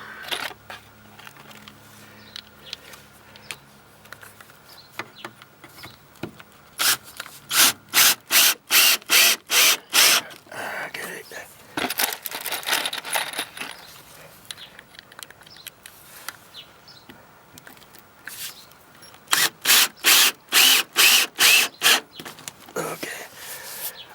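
Screws driven through a stair bracket into a wooden stair stringer during a repair, heard as two bursts of rapid, loud rhythmic drill-driver clatter separated by quieter rubbing and handling noise.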